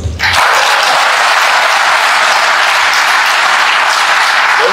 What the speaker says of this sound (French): Vous allez applaudir, ça va.